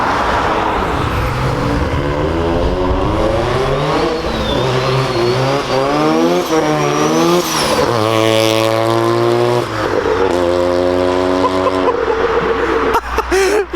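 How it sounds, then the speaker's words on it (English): A boosted Mazda RX-7 drives past nearby, its engine revving loud with rising and falling pitch sweeps as it accelerates, then holding a steady high drone before easing off, with no talk over it. "I'm trying to get a drive-by of him right now. It's a sick RX-7 though."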